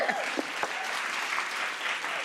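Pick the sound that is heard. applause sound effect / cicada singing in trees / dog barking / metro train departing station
applause sound effect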